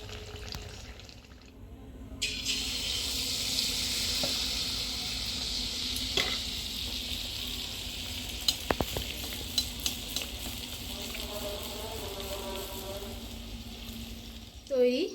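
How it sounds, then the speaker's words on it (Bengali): Pitha batter frying in hot oil, a dense continuous sizzle close by with scattered pops and crackles, a few sharp utensil ticks and light clinks toward the end. "ঠিক একই পদ্ধতিতে বাকিগুলো সব ভেজে নেব"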